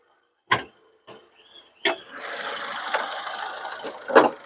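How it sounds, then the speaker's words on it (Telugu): A 2016 Ford EcoSport Titanium: a few sharp clunks and taps, then the engine settles into a steady, moderate idle hum with a louder knock near the end, and no voices. "ఇంజన్ అయితే నేను స్టార్ట్ అయితే చేసినాను."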